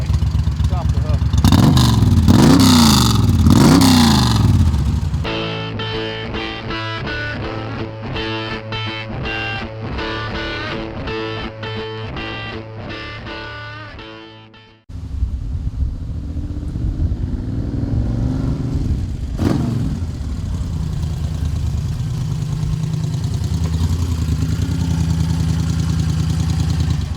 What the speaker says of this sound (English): This is an exhaust note on this bike.